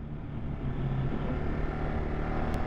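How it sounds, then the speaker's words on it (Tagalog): A motorcycle passes on the road, heard as a steady low engine rumble and road noise that swells slightly and holds for a few seconds. "Oh, may motor."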